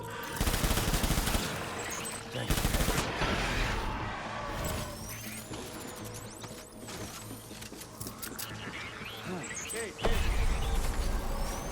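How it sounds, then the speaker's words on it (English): Gunfire in the video game Death Stranding: bursts of shots and rapid fire rattle across the whole clip, loudest in dense clusters at the start and end, over a steady rumbling game backdrop with no talk. "Now, who is shooting at me?"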